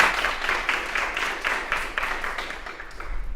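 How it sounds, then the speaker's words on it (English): Audience at a service recognition ceremony clapping, a short burst of fairly close, uneven hand claps with a slightly rhythmic pulse, fading a little toward the end. "Round of applause, please."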